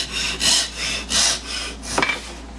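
A hand saw cuts through a wooden dowel to make 6-inch pieces, with three or four rasping back-and-forth strokes, close and fairly loud, then a brief clatter at the end.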